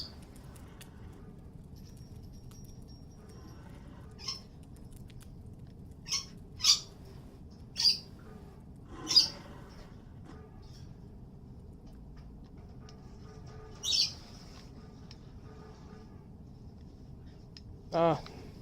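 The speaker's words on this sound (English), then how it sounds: "That is my lorikeet in the background" A pet lorikeet lets out short, shrill squawks in the background, about seven sharp calls spaced irregularly over a quiet indoor room.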